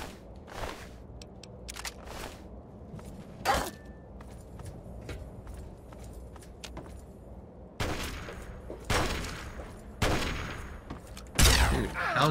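Sniper gunfire in the video game Fallout 3, scattered sharp rifle cracks spread over several seconds, some single and some in quick clusters, over quiet game ambience.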